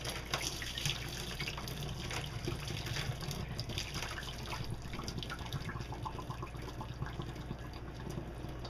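A tap runs steadily as boiled pork is rinsed of fat in a kitchen sink, a continuous rushing, splashing stream of water with no voices.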